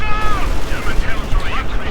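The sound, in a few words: machine gun and sniper fire in Company of Heroes 2 (video game)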